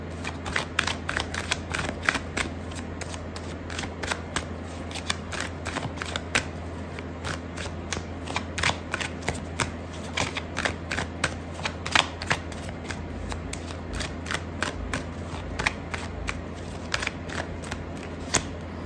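Tarot cards being shuffled by hand in quick, repeated riffling bursts of crisp paper flicks, close up, with no talking.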